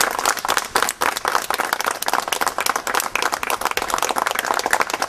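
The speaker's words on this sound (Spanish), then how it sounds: "Un aplauso." A neighborhood crowd gathered outdoors claps in an uneven, moderately loud round of applause, with individual hand claps audible in the patter throughout.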